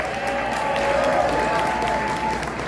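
An audience at a talk about vinyl records claps together, a dense, even wash of applause that holds steady for a few seconds without a clear rise or fall.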